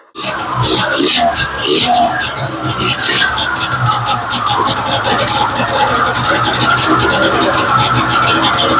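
A Ski-Doo snowmobile engine held at a raised idle with the throttle slightly open, a loud, steady, close running drone with a rough buzzing edge that continues without a break.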